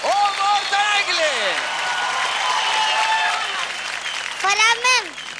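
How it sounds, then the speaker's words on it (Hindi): A studio audience on a kids' dance show applauds for young dancers, a steady, loud wash of clapping with a host's voice talking over it at the start and near the end. "जोरदार ताली हो जाए ओम और तने के लिए।"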